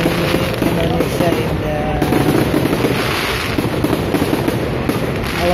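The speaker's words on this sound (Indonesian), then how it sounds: "kembang api menyambut tahun 2019 di Taman Mini Indonesia" New Year 2019 fireworks at Taman Mini Indonesia Indah, a dense continuous barrage of crackling bursts and booms heard from a crowded outdoor spot, with wind buffeting the microphone and faint crowd voices underneath.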